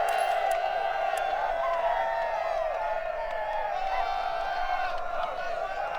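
A game crowd from the trading simulation Patrician 4 cheers and whoops in a steady, loud roar that fills the whole stretch, with voices rising and falling but no clear speech.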